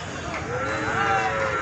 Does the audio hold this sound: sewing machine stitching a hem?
no